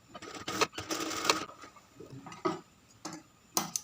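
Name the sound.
sewing a shirt collar by machine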